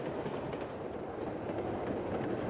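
Burlington Northern passenger train 110 cruising through central Minnesota, a steady broadband rumble and rush of rolling rail cars held at constant loudness throughout, with no voices.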